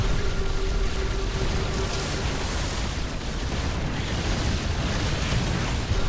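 Explosions as tanks are destroyed in StarCraft II, dense overlapping booms and bursts in a continuous loud battle roar with no clear gaps.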